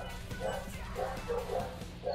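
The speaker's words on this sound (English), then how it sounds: "Sorry about the dogs." Dogs bark in a burst of several short, muffled woofs and yips at moderate distance, with a faint hum in the background.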